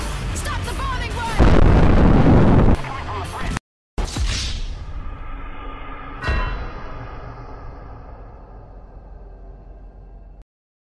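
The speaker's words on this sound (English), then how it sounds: "Stop the bombing, boy!" Loud explosions in a bombing scene: a thick, roaring blast runs for about a second, then after a sharp cut a second boom hits and a third follows, each trailing off into a long rumbling decay.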